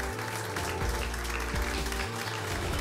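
A studio audience at a Bulgarian music show applauds the musicians with a thick, continuous wash of clapping over a steady low hum, and no voices break through.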